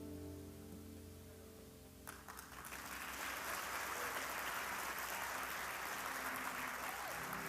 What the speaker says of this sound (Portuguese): Se esse aplauso foi para mim, estava bom, demais.